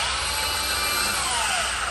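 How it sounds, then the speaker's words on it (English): A power tool cuts into the trunk of an E30 M3, producing a continuous, loud, close grinding hiss whose pitch sags slightly as it bites into the metal. "we decided we were going to go ahead and cut the trunk right here"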